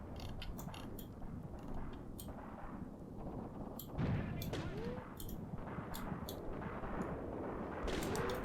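Gunfire across a battlefield in the tank game Tank Warfare: Tunisia 1943, set at Longstop Hill: sharp distant shots and clattering bursts over a steady rumbling mechanical bed, with a heavier report about halfway through.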